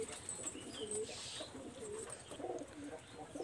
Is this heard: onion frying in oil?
no